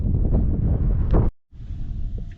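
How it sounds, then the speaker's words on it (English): Strong wind buffets the microphone outdoors at a free dispersed campsite in Utah, a loud continuous low rumble that drops out briefly before gusting back up. "Well, the wind's picking up"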